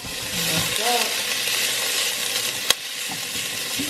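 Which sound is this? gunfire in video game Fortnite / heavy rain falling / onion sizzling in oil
onion sizzling in oil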